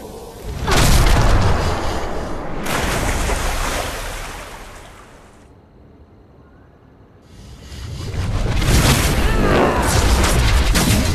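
Heavy booming blasts of a biotic shockwave in the Mass Effect 2 video game roar loudly in two long surges, separated by a brief quieter lull.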